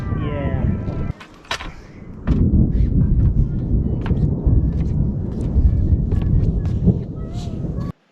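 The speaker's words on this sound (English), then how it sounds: "just let loose a huge thunderclap." Thunder during a storm booms over an Earthship-style roof: a long, loud, rolling rumble with sharp cracks, close and heavy, after an earlier quieter stretch, and it cuts off abruptly.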